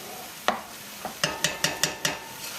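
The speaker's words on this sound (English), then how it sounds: "Just gonna give that a quick stir" Black-eyed peas with carrots, ham and brown sugar stirred in a pot: a run of sharp, evenly spaced scrapes and knocks of a spoon against the pot, close and clear over a faint simmer.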